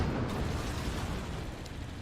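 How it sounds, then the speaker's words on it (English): Rumbling secondary explosions set off by an empowered howitzer strike in the strategy game Forts, a dense, continuous low boom and crackle lasting about two seconds with no voices. "Oh, that's secondary explosions."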